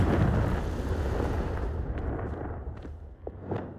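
A fiery Confringo blast spell goes off in the Hogwarts Legacy video game, a loud booming burst that fades over a few seconds, with a few faint sharp crackles trailing after.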